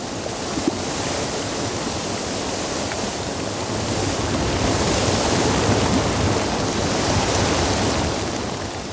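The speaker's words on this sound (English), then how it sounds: "There are 22 active geysers, shooting spurts of water and steam 130 feet into the air." Active geysers in a Russian valley of bubbling mud pools send spurts of water and steam skyward, producing a loud, steady, continuous rushing hiss of water that swells slightly midway.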